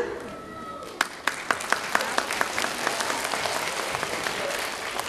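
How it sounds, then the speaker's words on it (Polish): At the opening ceremony of an ecological spring event in Lubań, a few sharp individual claps quickly build into sustained audience applause that carries on to the end. "Brawa się należą"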